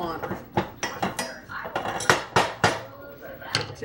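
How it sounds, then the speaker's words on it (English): A spoon stirs lentil dahl with curry in a pot, making quick, irregular metallic clinks and scrapes against the pan. The sound is close and busy, with a few louder knocks. "Make sure you stir all this up."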